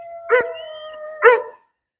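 A German wirehaired pointer gives two close, loud barks about a second apart, each with a slightly whiny tone, against a quiet background.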